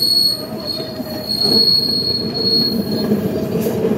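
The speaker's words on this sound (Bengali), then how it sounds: "আর ট্রামের উপর ট্রাম যাচ্ছে, দেখেন" Trams pass by in Upper Darby, Pennsylvania, with a loud, sustained high-pitched wheel squeal ringing over a rolling rail rumble, close and continuous.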